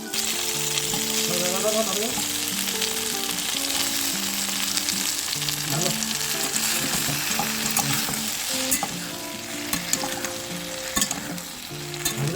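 Jujube fruits frying in oil tempered with panch phoron for a sweet-sour pickle, a dense crackling sizzle under steady stirring, with faint music-like tones in the background and no speech.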